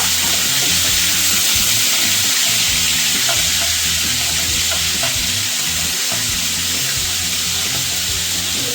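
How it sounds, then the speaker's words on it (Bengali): Prawns frying in oil in a pan make a loud, continuous crackling sizzle throughout, with occasional stirring taps and no voices. "মাছটা দিয়ে আমি একটু নেড়ে করে নেব।"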